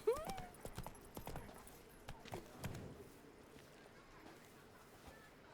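Roach, a horse in The Witcher 3 video game, clip-clops along at a gallop, hoofbeats fairly close and irregular under a bed of game ambience. A brief whinny-like tone sounds at the start, and the steps fade a little toward the end.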